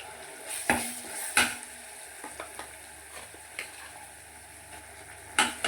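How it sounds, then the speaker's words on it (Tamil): Ground paste stirred into sautéed onions in a pan, a low steady sizzle broken by a few sharp spatula knocks and scrapes against the metal, close and otherwise quiet. "போட்டு நல்லா இதிலே கிண்டி விடணும்"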